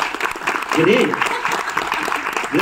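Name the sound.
loud applause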